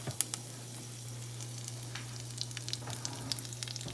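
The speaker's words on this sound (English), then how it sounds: "Once this splatter, add the curry leaf." Curry leaves and seeds fry in hot oil for a potato and green peas curry, giving a steady soft sizzle with scattered crackling pops, close and fairly quiet, with no talking.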